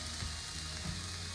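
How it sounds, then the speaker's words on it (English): Methi leaves cook in a pan for aloo paratha, giving a steady, soft sizzle and hiss with faint low clinks. "It takes a minute to cook the methi leaf."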